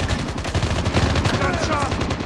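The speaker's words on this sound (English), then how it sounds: "Gunshot!" Rapid gunfire in the Call of Duty Mobile battle royale crackles as a dense burst of automatic shots, loud and continuous throughout, with game voices partly mixed in.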